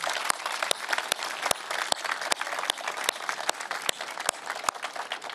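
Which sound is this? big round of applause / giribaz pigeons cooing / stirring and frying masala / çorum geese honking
big round of applause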